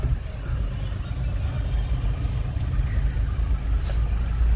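A Mahindra Veero pickup truck reverses quickly, its engine giving a steady, loud low rumble with broadband road and wind noise, and faint voices in the background.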